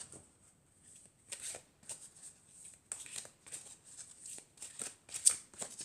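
Angel and crystal oracle cards being shuffled by hand, close and soft, in repeated riffling bursts with short pauses between them.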